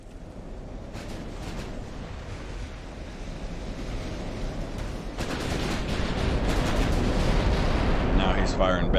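Naval artillery in the warship game Ultimate Admiral: Dreadnoughts, heavy booming gun blasts over a constant roar of sea and wind, with a few sharp reports standing out and the rumble building louder toward the end.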